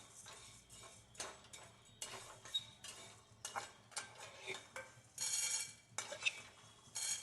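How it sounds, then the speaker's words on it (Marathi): Roasted sago pearls scraped and tipped from a pan onto a plate: scattered scraping, tapping and rattling of a utensil against metal in uneven bursts, moderately quiet with no talking. "आता शाबू काढून घेते प्लेट मध्ये."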